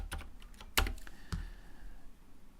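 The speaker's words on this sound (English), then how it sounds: "Type in .NET new." Keys clatter on a computer keyboard in a short burst of irregular clicks, close and fairly crisp, with a couple of sharper taps standing out before the typing trails off.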